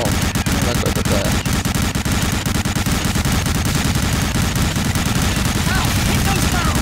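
Rapid gunfire in the video game Medal of Honor: Allied Assault, a dense, loud machine-gun burst of continuous rattling shots hitting the player at an airfield, running without pause under faint talk.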